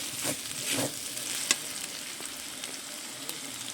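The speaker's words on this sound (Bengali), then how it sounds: "মশলাটাকে নেড়ে চেড়ে আমি আবারও বেশ সুন্দর করে কষে নেব" Spice paste (masala) frying in a pan with a soft continuous sizzle, broken by scraping strokes of a stirring spoon and an occasional sharp tap against the pan's side.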